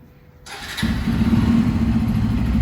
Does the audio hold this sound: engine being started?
yes